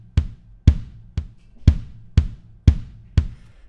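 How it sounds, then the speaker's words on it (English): Kick drum pattern programmed in Logic with varied note velocities: seven punchy, booming hits in a steady even pulse, each with a short decay and slightly differing loudness, close and isolated. "So now our kick drum sounds like this."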